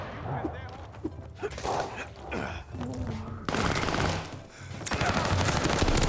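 Automatic fire from an M1928 Thompson submachine gun in the multiplayer shooter Call of Duty Vanguard, heavy bursts rising in the second half over loud game noise, with a voice talking early on.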